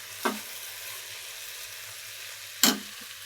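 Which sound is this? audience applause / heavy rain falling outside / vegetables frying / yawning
vegetables frying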